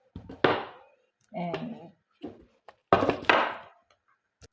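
An onion chopped on a board during meatball prep, heard as a few sharp knocks and short bursts of cutting mixed in with a person talking nearby.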